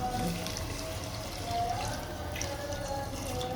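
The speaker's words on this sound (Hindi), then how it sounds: "बस मैंने इसमें 2 गिलास के बराबर पानी डाला है" Water poured into a cooking pot of peas and potatoes for a pea pulao, a steady close splashing and trickling running without a break.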